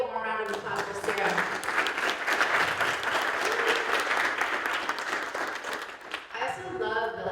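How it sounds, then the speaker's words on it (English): A teach-in audience at Laney College applauds speaker Sara, with steady, full clapping from a sizable crowd and a few cheers, fading near the end as voices return. "So let's give a warm round of applause for Sara."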